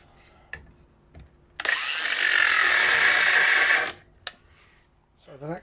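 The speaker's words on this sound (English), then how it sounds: "using my favourite tool at the moment, DeWalt angle grinder" A DeWalt angle grinder cuts through a BSA Scrambler motorcycle donor frame in one steady, loud, high-pitched whine of about two seconds, with faint clicks and a short voice before and after.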